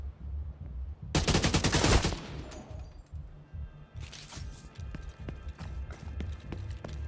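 Rapid automatic gunfire from The Division 2 video game bursts out loudly for about a second, a dense string of shots, followed by scattered quieter impacts and distant pops against steady game ambience.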